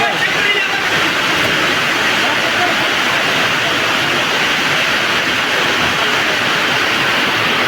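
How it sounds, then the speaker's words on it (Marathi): Torrential rain hammers down over the Narayangaon vegetable market grounds, a loud, unbroken roar of rushing water that holds steady from start to finish. "नारायणगाव भाजीपाला मार्केट इथं प्रचंड पाऊस"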